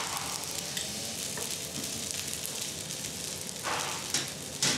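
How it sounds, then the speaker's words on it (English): Scallops with chopped onion, ginger and rice sizzle loudly in a hot frying pan, a steady crackling hiss with occasional scraping bursts as they are stirred. "Chopped onion, ginger, rice, and the chopped scallops are sautéed, and scallop sauce is added to the frying pan"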